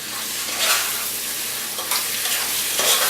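Coconut curry tofu sizzles loudly in a pan as tomato sauce is stirred in, a steady close hiss with a few swells from the stirring strokes.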